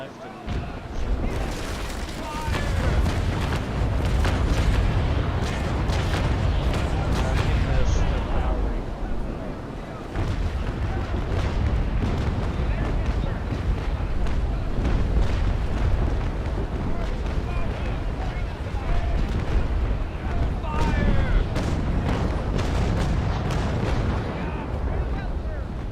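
Ship cannons firing in a naval video game, with three cannons trained to the left: a dense, continuous run of heavy booming blasts and rumbling explosions, loud and close, with talk running over the barrage.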